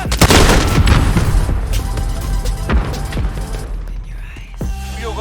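Stun grenade blasts and bursts of gunfire in Call of Duty: Modern Warfare, with a run-and-gun Galil rifle, loud booms and rapid shots packed into the first seconds, then scattered cracks and a final thud while battlefield chatter sits under the din.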